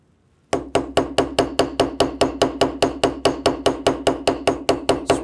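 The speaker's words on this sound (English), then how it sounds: "taking my ball peen hammer" Steady, rhythmic ball peen hammer strikes, about four per second, peening a brass rivet, ringing sharply on metal with no talking, close and loud.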